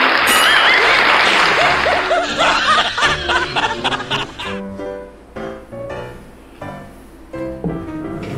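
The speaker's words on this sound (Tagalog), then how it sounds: "Palakpak naman dyan" Laughter and chuckling from a group mix with a burst of clapping, then scattered claps continue beneath chatter.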